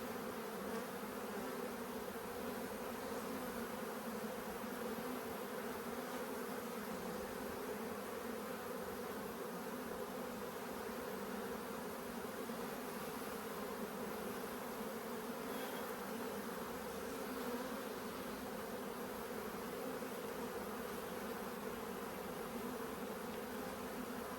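Honeybees buzzing steadily around an opened hive during a Demaree split, a dense continuous hum close by with no voices over it.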